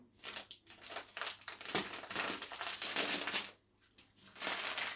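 Crinkling and rustling of a plastic bag, close and fairly quiet, in irregular crackly bursts with a short pause near the end.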